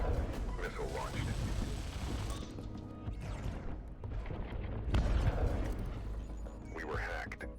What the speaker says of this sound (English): Missile launched.